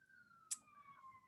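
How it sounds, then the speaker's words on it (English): A siren wails faintly in the distance, a thin steady tone drifting slowly downward, with a brief sharp click partway through. "I'm sorry for the sirens in the background"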